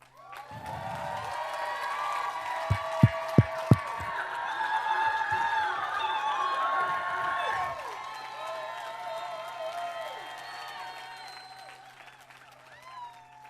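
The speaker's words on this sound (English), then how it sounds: "I think that's a bigger round of applause than you ever got preaching" Church audience applauding as Chris and Arlina Pletcher come up on stage on a Sunday, sustained clapping with a few sharp claps and a musical tone beneath, slowly fading out at the end.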